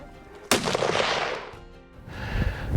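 A single sharp rifle shot fired while hunting bull elk in Montana cracks out loud and close, then booms and rolls off across the open terrain in a long fading echo.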